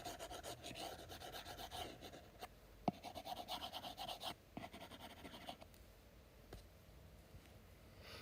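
A stylus drawn like a pencil across a matte screen protector on an iPad Mini makes soft, close scratchy rubbing strokes in irregular bursts, with occasional light taps, heard alone and quietly.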